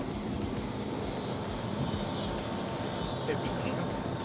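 An electric golf cart upgraded with a lithium battery drives along, giving a steady whirring hum with road and wind noise throughout, while people talk over it.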